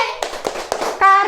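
Children in a classroom clap a rhythmic concentration game, three or four crisp evenly spaced group claps under chanting voices, followed by a sung phrase.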